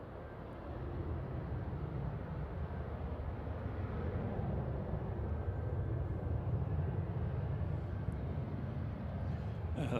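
Jet2 airliner departing from Manchester Airport for Vienna, a steady broad engine roar at a distance that holds for the whole stretch with little change, with no talk over it.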